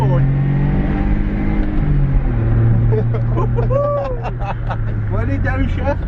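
A car engine sits at a steady drone while drifting, its pitch shifting downward and then bending through changes, with an excited voice talking over the engine throughout.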